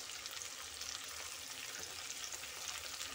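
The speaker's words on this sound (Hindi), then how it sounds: "ये सारी प्याज मैं इसमें डाल दूँगी।" Sliced onions hiss and sizzle loudly in hot oil, a steady close-up frying crackle with no talking.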